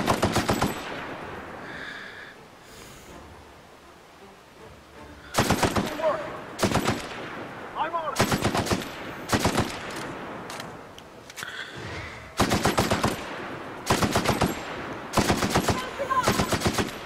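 Repeated bursts of rapid automatic gunfire in The Outer Worlds, loud and close, in several sustained volleys separated by short quieter gaps.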